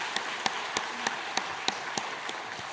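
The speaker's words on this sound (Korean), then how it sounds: "이 시간 하나님께는 영광이요, 또 매일 저녁마다 와서 수고하고 연습하는 우리 시온 찬양대 한 분 한 분에게도 또 감사 격려 박수" A church congregation at a Christmas service claps for the choir, sharp distinct claps in a slow, regular rhythm over a steady roomy background wash.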